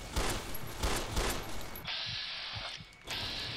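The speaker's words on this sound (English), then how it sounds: "10 mil pistol." A 10mm pistol fires in the video game Fallout New Vegas, a rapid series of sharp shots in the first half followed by a steady electronic hum with a brief break.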